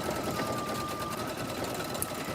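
An embroidery machine stitches a small silver star onto a beginner's wall hanging, giving a steady, close, continuous mechanical whir with a fast needle rhythm throughout.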